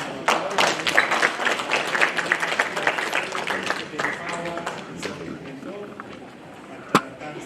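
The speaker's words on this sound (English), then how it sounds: "another round of applause" Applause from an audience at the launch of a national action plan on business and human rights, scattered claps that thin out toward the end, with a sharp knock near the close.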